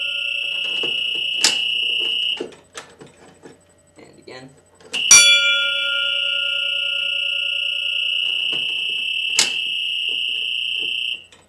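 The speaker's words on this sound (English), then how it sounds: "it's hooked up to the bell here, so let's go ahead and set it off here" A Faraday 1137 fire alarm bell, set off by a pull station during a test, rings loudly in two long bursts separated by a pause, with faint talking and handling noises in the gaps.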